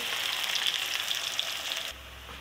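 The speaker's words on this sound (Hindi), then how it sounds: "इधर तेल गर्म हो चुका है, अभी डालूँगी प्याज।" Onions frying in hot oil, a dense hissing sizzle with fine crackles that runs steadily for about two seconds, then cuts abruptly to a quiet hum.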